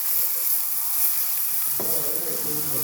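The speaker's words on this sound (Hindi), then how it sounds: "तो यहाँ पे प्याज भुन चुका है हमारा।" Chopped onions sizzle and fry steadily in a pan for spiced okra, a continuous close hiss with faint clinks from stirring, then a louder burst of crackling toward the end as they soften.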